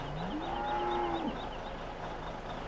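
A single drawn-out cow moo comes from a game animal in Farming Simulator 17, rising and then falling off, heard clearly over a quiet farm background with no talking.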